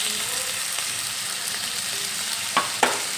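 Potatoes fry in hot oil while being stirred, giving a steady soft sizzle with two brief scraping knocks of the spatula near the end.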